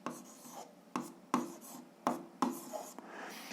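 Pen strokes writing a number by hand on paper during an algebra exercise, a few short scratchy bursts in an irregular rhythm, close and quiet with no talking.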